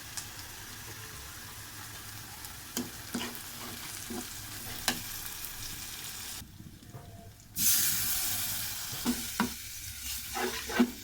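Chili and spice masala frying and being stirred in a pan for a mango and prawn curry, a steady sizzle broken by scraping stirs, with a brighter hissing surge late on.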